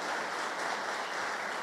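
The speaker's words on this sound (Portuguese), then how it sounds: "Você pode aplaudir o Senhor?" A church congregation applauds in dense, steady clapping that fills the space evenly from start to end, heard alone without voices.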